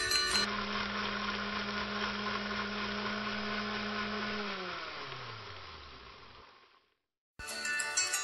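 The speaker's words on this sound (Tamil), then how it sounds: "புதினா, கொத்தமல்லி, இஞ்சி, பச்சை மிளகாய், கொஞ்சம் உப்பு, இதெல்லாம் ஒரு மிக்சி ஜார்ல போட்டு நல்லா அரைச்சிக்கலாம்" A mixie jar grinds mint, coriander, ginger, green chili and salt for chutney, a loud steady whirring drone that winds down and stops, then briefly restarts after a short silence.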